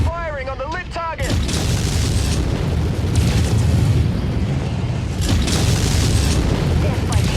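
Missile explosions in the MechWarrior video game, a rolling barrage of heavy booms that fill the mix continuously after a short opening of synthetic chirps, loud and sustained with fresh blasts swelling midway.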